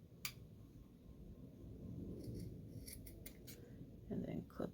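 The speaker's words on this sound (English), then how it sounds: "So I'll cut the excess off of the back" Scissors trimming excess fabric just below a stitch line on a sewing project, a series of crisp snips at the start and near the end over a low background hum.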